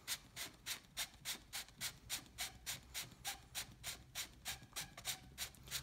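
A pool cue tip being sanded by hand, a regular back-and-forth rasping stroke repeating about every third of a second, close and steady with no voices.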